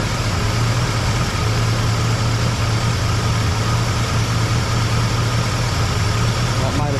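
A carbureted engine idles steadily throughout while its idle mixture screws are being tweaked, giving a continuous low, even drone with a faint rough flutter.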